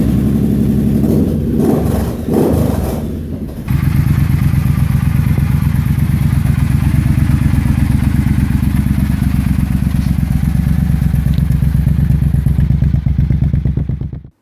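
Triumph Bobber motorcycle with hand-welded straight-through exhaust pipes fitted with a baffle tube and packing, loud close rumbling idle with a burst of revving early on, then a steady deep throbbing note that runs until it cuts off.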